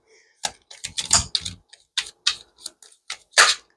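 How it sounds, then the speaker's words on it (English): A pocket-edition Psychic Tarot deck being shuffled by hand, heard up close as a quick, irregular run of crisp card taps and riffles with short pauses. "I'm like trying to shuffle these good."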